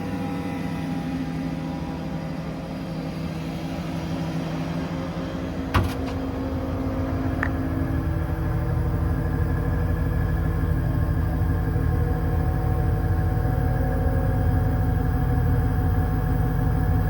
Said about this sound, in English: You hold this button down, and that will command the compressor on.